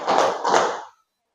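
A roomful of people claps in unison during a call-and-response clapping game at a school positive-culture session. Two loud, clustered group claps in quick succession, each a short broad smack, followed by silence.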